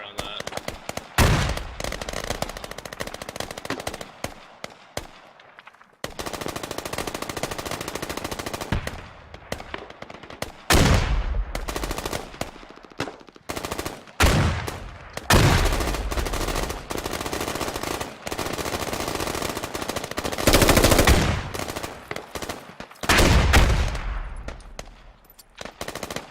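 Gunfire in the military shooter Squad near a radio tower: repeated bursts of automatic fire and single cracks, loud and close, broken by short pauses across the stretch, with voices faintly underneath.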